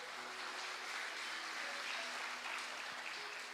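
Church congregation applauding during an evening service, a steady wash of clapping filling the space at moderate level, with a faint tonal hum of instruments or organ underneath.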